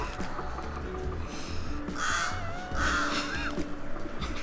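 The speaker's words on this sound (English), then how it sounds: "I'm gonna kill that bird." Loud, close crow caws sound outdoors, two or three drawn-out harsh calls in the second half over a steady low ambient rumble.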